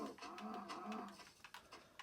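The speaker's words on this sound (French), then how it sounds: "Oh bah tiens, une vache." A cow moos in a Minecraft survival game, giving a couple of drawn-out lowing calls with clicky game sounds and faint speech in the background.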